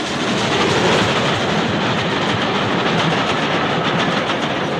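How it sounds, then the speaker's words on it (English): A steam-era holiday train returning to Birmingham and Wolverhampton from the Southern Region rushes past on the railway in a loud, dense, steady roar of wheels and carriages, with no voices. "Here's a holiday train returning to Birmingham and Wolverhampton from the Southern Region."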